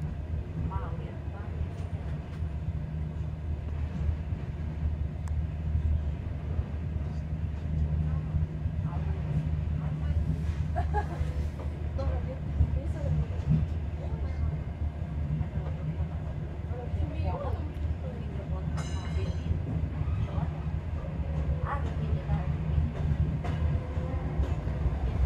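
The Turan Express stands at a station platform with a steady low rumble of the train on the rails, a continuous close mechanical hum and a few faint clanks, while someone talks over it.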